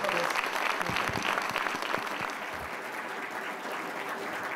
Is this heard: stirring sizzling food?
no